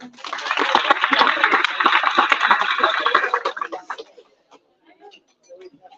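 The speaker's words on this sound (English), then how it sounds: "Can I get a round of applause for that?" A fundraiser audience gives a round of applause that runs steadily for about three and a half seconds before fading out, leaving faint murmurs and light laughter.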